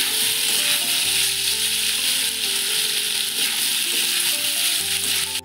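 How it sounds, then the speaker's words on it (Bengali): Soybean curry with ginger and garlic being sautéed in a pan, a loud continuous close sizzle with brief stirring scrapes and a low steady hum underneath, no voices. "আর একটু কষিয়ে নিই"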